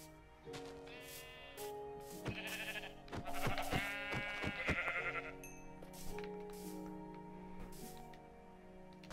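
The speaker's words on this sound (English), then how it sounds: "Aha! A sheep." Sheep bleat repeatedly in Minecraft, several wavering cries in a row at moderate volume, with no talking.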